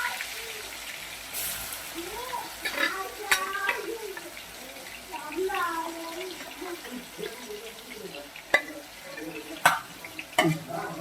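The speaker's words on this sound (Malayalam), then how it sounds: "മീൻ വറുക്കുന്നു." Fish frying in oil in an old frying pan at home, a steady sizzle with intermittent stirring and clattering utensil knocks, while a voice talks over the cooking throughout.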